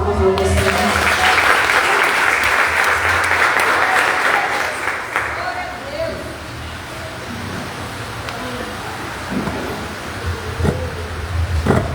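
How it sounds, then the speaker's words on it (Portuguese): Audience applause at a religious talk, loud broadband clapping through the first several seconds that then thins into scattered claps and murmuring voices, with faint wind-like room noise beneath. "as palmas a você"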